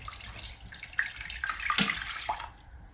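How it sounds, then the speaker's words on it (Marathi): Lentil water poured into sautéed masala in a pan, a soft close trickle with a few small splashes and clinks, fairly quiet and tapering off at the end. "आणि मग आता ह्याच्यामध्ये मी घालतेय हे डाळीचं पाणी"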